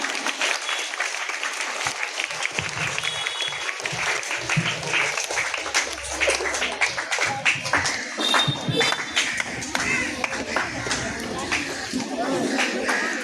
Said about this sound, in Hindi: ऑडियंस कृपया जोरदार तालियों के साथ उनका उत्साह बढ़ाएं।